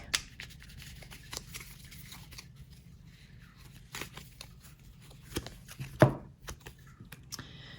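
Tarot cards are shuffled and drawn close by in soft rustles and light clicks, with one sharper snap partway through and faint handling sounds scattered throughout. No voices are present.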